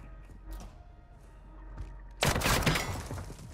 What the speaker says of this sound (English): Oh, I just got shot at.